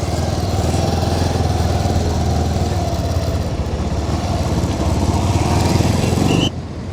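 Motorcycles idle and rev close by near the Tungabhadra Dam viewpoint, a loud, steady engine drone with a rattling, clattering edge that drops off abruptly near the end.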